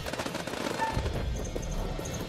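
Gunfire crackles in the House of Ashes video game during a ridge firefight, with rapid bursts of shots, sharp impacts and a short metallic ring in a busy, mid-distance mix.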